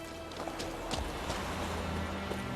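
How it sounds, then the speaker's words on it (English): Horse hooves from The Witcher 3 video game, a steady clip-clop of a horse moving at pace, close and fairly loud over a continuous background of game ambience. "We could ride the horse."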